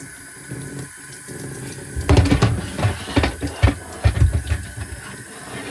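A Shark NV501 vacuum canister is washed under running tap water, with a steady hiss joined by irregular splashing and sloshing bursts as the water strikes and fills the plastic container.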